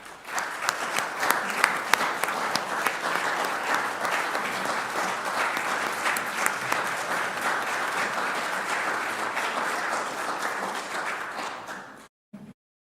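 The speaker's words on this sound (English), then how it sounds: "let's give them all a big hand of applause" An audience in a county address hall gives sustained applause for county employees, dense steady clapping lasting about twelve seconds before cutting off.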